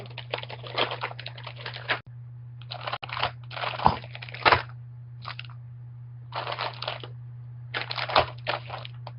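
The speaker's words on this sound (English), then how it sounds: "We opened a bag of semi-sweet chocolate chips." A bag of semi-sweet chocolate chips is opened with bursts of close crinkling and rustling plastic in irregular clusters, broken by brief pauses, over a steady low electrical hum.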